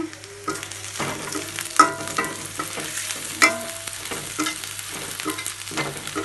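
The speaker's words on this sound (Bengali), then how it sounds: "পাবদা মাছ ভুনা উস্তে ভাজি আর ভাত এই পাশে চলছে রান্না" Pabda fish bhuna frying in a pan while being stirred, with a steady sizzle broken by repeated scraping clanks of a utensil against the pan, close and fairly loud, no voices.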